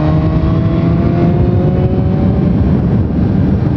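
A 2017 BMW S1000R motorcycle, 165 horsepower with a slip-on exhaust, cruises at 130 on the highway, its engine a loud, steady drone blended with heavy wind rush throughout.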